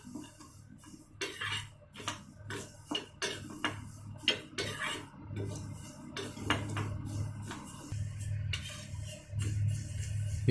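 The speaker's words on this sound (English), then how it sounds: "Keep the pan in flame. We have to fry the raw rice." Raw rice frying in ghee in a pan over a flame, giving irregular light ticks and scrapes from stirring over a low, steady sizzle.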